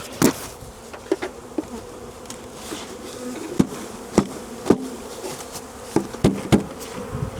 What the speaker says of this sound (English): Now we're just going to tap the bees in here.